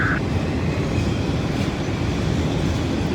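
A train passes close by as a loud, continuous low rumble of rolling railcars, steady throughout with no voices.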